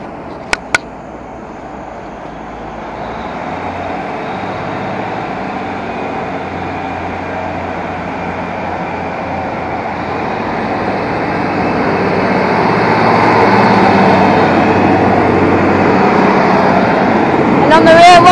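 A heavy engine hums and slowly builds in loudness as a Great Western Railway passenger train pulls away from Paignton station, with a couple of sharp clicks near the start.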